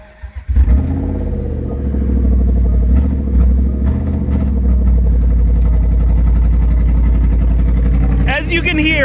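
A damaged Range Rover engine starts after a brief crank and settles into a loud, rough, uneven idle with a heavy low rumble and irregular roughness throughout, close to the microphone, before a short higher whine near the end.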